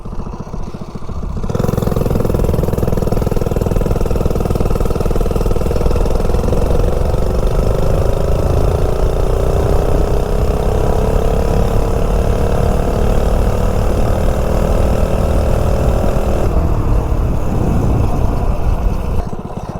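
Micro minibike engine running on 87 octane clear gas, a steady loud buzzing drone that climbs slowly in pitch as it accelerates from a stop, then cuts back near the end.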